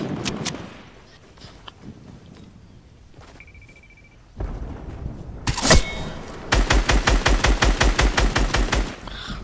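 Fortnite gunfire erupts amid a firefight: a sharp burst of shots followed by a rapid, evenly spaced string of loud blasts, with scattered thuds and quieter clicks earlier.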